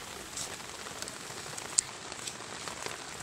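Light rain easing off on a farm, a soft steady patter with scattered individual drops ticking clearly, fairly quiet and close.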